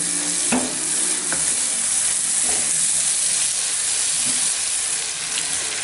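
Tomatoes and yogurt hit hot oil in a pan of frying mixed vegetables (potato, peas, carrot and fenugreek), giving a loud, steady sizzle with scattered crackles and stirring scrapes throughout.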